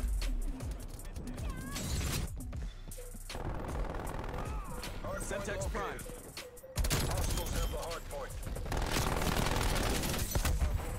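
Gunfire in a Call of Duty: Black Ops Hardpoint match, including FFAR 1 rifle fire: dense rapid automatic bursts mixed with crashes and other game effects, loud and nearly continuous, with a person talking over it.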